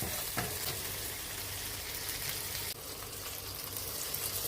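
Marinated fish fries in a pan with a dense, continuous hiss and crackle of hot oil, close and steady, with a brief clatter partway through and no talking.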